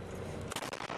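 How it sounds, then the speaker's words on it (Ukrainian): Artillery shot from a Bohdana self-propelled howitzer firing on enemy positions in Donetsk region, heard as a sharp loud blast about halfway through, followed by a few rapid booming echoes over steady background rumble. "Гармата! Постріл!"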